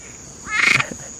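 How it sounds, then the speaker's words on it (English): A frog gives a single short, strained croaking call, close and fairly loud, a rough nasal burst lasting under half a second over a quiet background. "this frog sounds like it's suffering"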